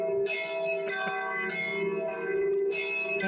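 Bells ringing in a steady, loud peal, with repeated strikes ringing out over sustained overtones and no voices.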